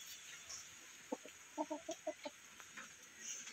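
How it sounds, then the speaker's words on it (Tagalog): White chickens on a farm with livestock and banana plants cluck in a quick run of about six sharp calls at moderate distance, followed by quieter scattered clucks over faint background noise. "So may mga manok."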